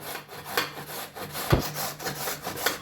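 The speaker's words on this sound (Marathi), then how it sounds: "शिलून घेतलेले गाजर आपण किसून घेणार आहोत।" Peeled carrots are rubbed against a grater in steady, rasping strokes, a soft scraping rhythm close by with no voices.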